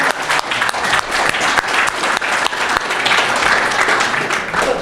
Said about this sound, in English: Let's give Justin a round of applause.